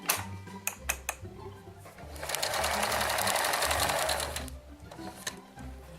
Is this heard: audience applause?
no